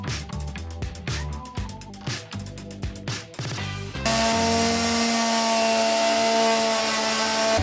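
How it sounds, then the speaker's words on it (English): Blunt chainsaw cutting wood on a rescued wooden boat during steering-system repairs, heard first in choppy bursts of revs and bites, then settling into a loud, steady continuous cut. "he made sure that I had a blunt chainsaw to work with"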